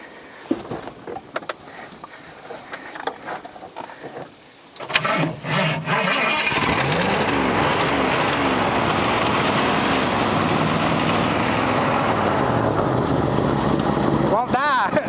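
An abandoned 1971 Ford Mustang, sitting for 25 years and fed carb cleaner, cranks amid clatter and voices, then catches and runs with a loud, steady, rough engine roar close by, with people talking over it.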